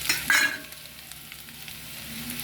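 Chopped shallots hit hot oil in a pan for a prawn coconut curry, giving a brief loud burst of sizzle that settles into a steady quieter frying hiss, with no voices.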